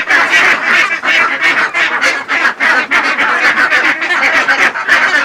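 Ducks quack loudly and continuously on a duck farm, many harsh nasal calls overlapping in a close, noisy flock.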